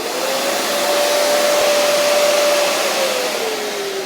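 A Festool CT dust extractor, switched on by a Bluetooth remote button, runs with a loud, steady whooshing roar and a faint tone slowly falling in pitch.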